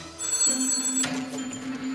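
A telephone rings with a bright electronic trill, one short burst that stops abruptly, followed by faint room tone; no talking.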